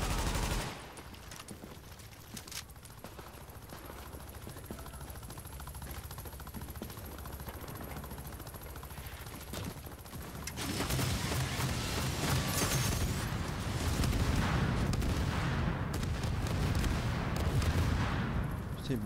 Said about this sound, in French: Il bombarde de partout cet enfant avec son hélico là.